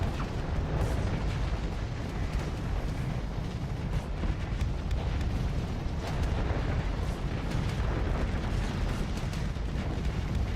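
Friendly torpedoes in the space game Starsector burst in a continuous barrage of booming explosions and rumbling blasts, dense and unbroken for the whole stretch.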